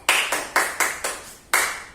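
A group of schoolchildren claps hands in the Tepuk Daniel clapping game, sharp loud claps in an even rhythm, five quick in a row and then a final clap after a short pause, with no talk over them.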